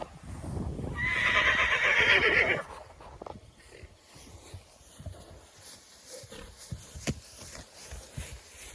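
A Volodymyr draft horse lets out one loud, shrill whinny close by at pasture, followed by quieter shuffling, thumps and faint outdoor noise.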